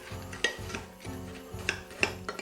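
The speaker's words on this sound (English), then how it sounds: "give that a very good mix through until all the butter's completely combined with our cookies" Crushed cookies being stirred into melted butter in a bowl, a steady scraping and rubbing with a spoon and occasional clinks against the dish, repeating in rhythmic strokes at close range.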